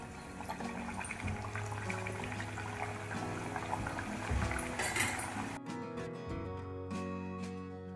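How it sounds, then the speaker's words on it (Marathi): Wheat flour and jaggery puris frying in hot oil, giving a steady, fairly loud sizzling hiss that continues throughout, with a brief shift in the texture partway through. "दुसऱ्याही पुऱ्या मी तेलात टाकून घेते आहे."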